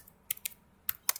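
Typing code on a computer keyboard during a Python coding tutorial: a few crisp, close keystrokes in short separated bursts, with no talking.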